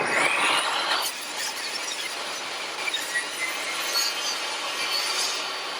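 Table saw blade cutting a 4x4 wooden board, a loud, bright, sustained whine and rasp with a sharp high onset that settles into an even grinding cut, no talking.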